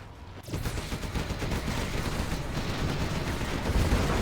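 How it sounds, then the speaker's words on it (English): Artillery fire in a competitive strategy video game match breaks out suddenly after a quiet start, becoming a dense, continuous barrage of overlapping booms and crackling blasts that stays loud to the end. "Artillery now coming in from StaZzz."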